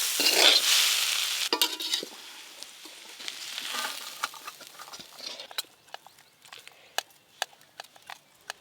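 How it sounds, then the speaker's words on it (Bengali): Water spinach with poppy seeds sizzles and is stirred in a pan, loud crackling frying at first, then settling into quieter sizzle with sharp utensil clicks and taps. "কলমি শাক ভাজা পোস্ত দিয়ে।"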